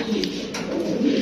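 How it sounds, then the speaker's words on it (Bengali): A pigeon at a breeding farm gives a low, soft coo, close and continuous for just over a second. "একবারে পছন্দর মতো একটা কবুতর"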